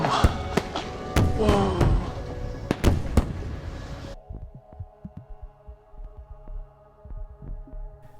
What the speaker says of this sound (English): There are fireworks. They boom a message in Morse code.